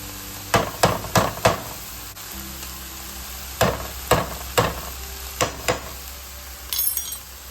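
A spoon scrapes and knocks against a pan while brown gravy is stirred into browned ground beef for tater tot shepherd's pie, a series of sharp clacks in two bursts over a low hum.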